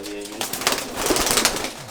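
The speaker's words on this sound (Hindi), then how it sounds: "ये लो शिजा, कबूतर को पकड़ना सीखो।" Pigeons coo close by amid rustling and handling noises, with people talking over them.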